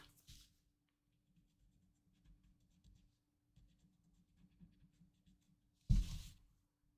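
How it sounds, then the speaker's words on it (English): A graphite pencil scratches softly across paper during Zentangle shading, making faint intermittent strokes in short bursts, with a louder thump near the end. "let's put a little graphite on either side of that"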